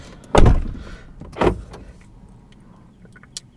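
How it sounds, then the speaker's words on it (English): Power window on a Dodge Charger 392 Scat Pack, two strong motor whirs with thumps, the first louder, then quieter cabin sounds and a small click near the end. "but I got to roll up the window, I guess, right?"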